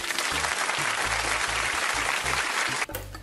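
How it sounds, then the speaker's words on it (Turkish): Classmates applaud a school singing performance, with dense, loud and continuous clapping from a room full of students before it drops off abruptly at the end. "Beni o kadar alkışladılar, o ellerine sağlık."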